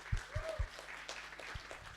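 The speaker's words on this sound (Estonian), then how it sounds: "Ja Kuldar Südale, aplaus" Brief applause at a sailing club's members' meeting: a few scattered claps, fairly close, then a thin patter of clapping fading out within a couple of seconds.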